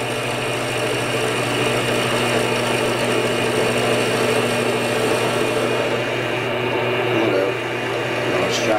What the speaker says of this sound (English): Now I'm going through some of the maple here